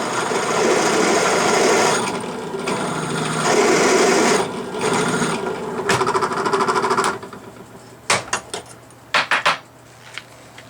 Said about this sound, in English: Okay, now fire up Mr. Drill Press